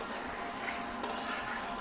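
Chicken pieces being fried and stirred with spices in a pan for a North Indian curry: a soft, steady sizzle with a brief scrape of the spoon, close but quiet, with no speech.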